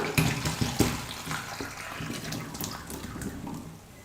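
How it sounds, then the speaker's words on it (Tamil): Water pours and splashes steadily, trickling and gurgling as it drains away, close by and fairly quiet, with a few sharp clinks at the start. "இப்போது ஒரு வடிகட்டி வச்சு நம்ம வடிகட்டி எடுத்துக்கலாம்."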